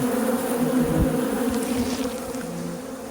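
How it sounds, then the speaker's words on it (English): A dense, steady buzz of many honeybees robbing a hive through a large hole hums close by, continuous and loud with no talking. "That's where the bees are robbing at."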